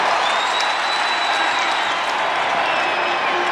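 A large crowd at a 1994 NCAA men's lacrosse game between Syracuse and Loyola applauds and cheers in a loud, continuous wash of sound, with a commentator's voice faintly audible underneath.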